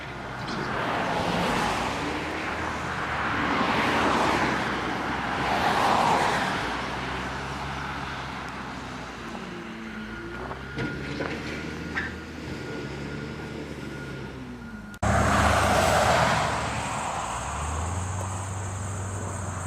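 Vehicles passing on busy Route 94 in Vernon, New Jersey: broad whooshes of cars rising and fading at moderate distance, then a steadier rumble and a sudden louder surge near the end.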